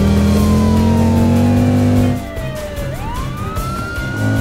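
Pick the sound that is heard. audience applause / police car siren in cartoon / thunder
police car siren in cartoon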